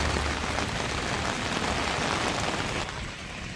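Heavy thunderstorm rain pours down in a dense, even hiss, close and loud, easing slightly toward the end of a few seconds with no voices.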